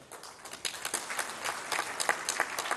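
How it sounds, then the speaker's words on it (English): Audience at a government awards ceremony applauds, scattered claps quickly swelling into a steady, moderately distant round of clapping in a large hall. "a round of applause for His Excellency"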